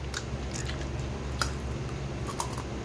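Someone bites into crunchy homemade tanghulu, candied fruit in a hard sugar shell, up close. A few sharp crackling bites are followed by moist chewing, with no talk.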